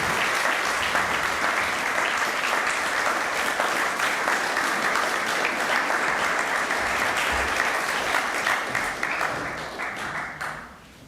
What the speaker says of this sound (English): could you all please give Annabelle a huge round of applause while she comes forward